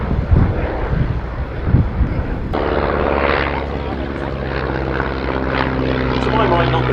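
A vintage Parnell Elf biplane taxies with its propeller engine running at an airshow, a steady droning buzz that grows fuller partway through, with a voice talking over it.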